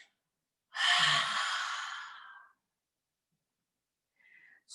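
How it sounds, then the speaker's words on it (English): A single long, close exhale through the mouth, breathy and airy, fading over about two seconds. A faint breath follows near the end during a yoga practice. "breathe in through the nose and out through the mouth"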